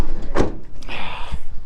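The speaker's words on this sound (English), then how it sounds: "2 of those sliding doors." The sliding side door of a Ford E-Transit Custom electric van rolling along its track and shutting with a solid thunk, close and loud in a single movement.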